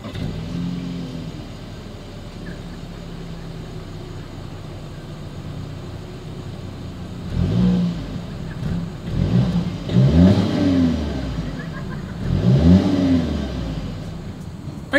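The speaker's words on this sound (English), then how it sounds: "As always, here is that exhaust clip." A 2023 Volkswagen Atlas SUV idles with a low exhaust rumble, then revs hard three times, each rise climbing and falling back to idle.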